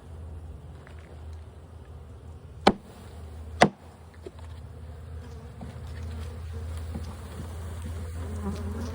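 A package of honey bees gets two sharp taps, then the bees are dumped into a hive, with a steady buzz of insects throughout.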